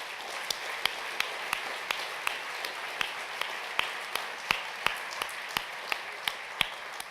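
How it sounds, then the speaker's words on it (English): Audience applause at a gala dinner, a diffuse wash of many hands clapping with a few louder individual claps standing out in a steady rhythm, moderately distant and fairly quiet throughout. "So really, another round of applause for them."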